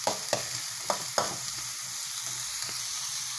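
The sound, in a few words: onion sautéing in cooking oil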